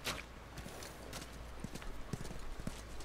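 Horse hooves clip-clopping in The Last of Us Remastered, a handful of crisp, evenly spaced hoof strikes on hard ground, fairly quiet, over a soft ambient hiss.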